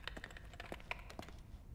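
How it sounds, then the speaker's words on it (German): Quiet, brisk keyboard typing from a computer in the video game The Evil Within, a short run of soft irregular clicks heard alone. "Da tippt jemand am Computer."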